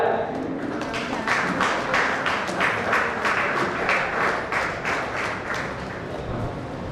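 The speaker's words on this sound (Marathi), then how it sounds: "टाळ्या" A gathering at a housing society welcome ceremony breaks into applause: rhythmic, fairly close clapping from a group, steady throughout, with faint voices in the background.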